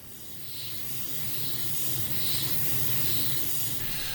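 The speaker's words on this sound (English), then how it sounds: "Now it's spraying pretty good." Thinned paint spraying from an airbrush onto a small model ship, a steady close hiss that rises slightly and holds with soft pulsing for a few seconds, alone with no voices.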